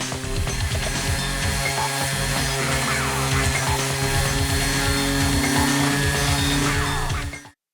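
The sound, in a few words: power sander sanding an old wooden dresser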